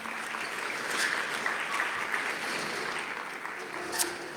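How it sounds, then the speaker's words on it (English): Steady crowd applause at an investment conference in Botswana, a dense wash of clapping from a distance that holds evenly throughout without any voices over it. "a round of applause again, ladies and gentlemen"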